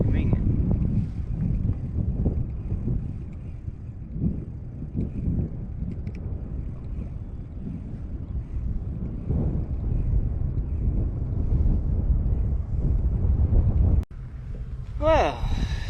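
Wind buffets a microphone on a fishing boat on the water, producing a steady low rumble with gusty swells throughout. It ends in a brief sharp knock followed by a short whistling sound.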